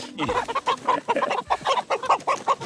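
Roosters being moved between pens on a farm cluck and squawk in rapid, overlapping bursts, with a brief crow-like call among them, loud and close throughout.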